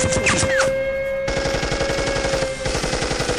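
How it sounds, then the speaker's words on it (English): Rapid automatic gunfire rattles in fast, continuous bursts at a steam locomotive, loud and close, with a steady whistling tone running underneath. "More shots were fired."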